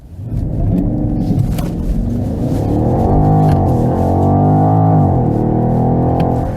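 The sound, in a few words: BMW X6 M50i V8 engine accelerating at full throttle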